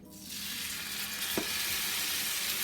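Custard-soaked eggnog French toast hits a hot griddle and sizzles loudly and steadily close up, the frying hiss swelling in the first moment and holding without talk.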